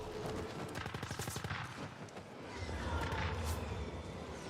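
Turrets firing in The Ascent, a sci-fi shooter: rapid machine-gun style bursts of rattling shots, steady and fairly distant, a continuous crackling fusillade with a brief lull before resuming.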